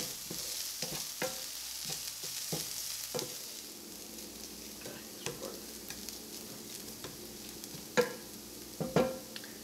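Green beans thoran mixture being stirred and fried in a pan, with a steady sizzle under repeated scraping and clacking stir strokes, fairly close, with louder knocks near the end.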